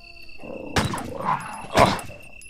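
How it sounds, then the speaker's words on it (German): Two zombie dogs in the Resident Evil Director's Cut video game growl and snarl, with two sharp bursts of barking close by and no speech over them. "So, zwei Hunde auf einmal."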